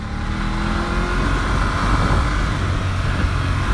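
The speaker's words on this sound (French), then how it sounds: "Hop, accélération." BMW F 850 GS motorcycle, 2018 model, accelerating on a dirt track, a loud steady engine roar building close by with no talking.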